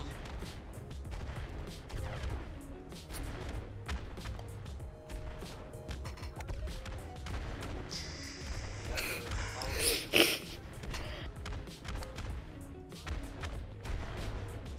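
Several booming blasts and crashes burst out over a steady electronic soundscape in the game Golf With Your Friends, with one especially loud impact near the middle.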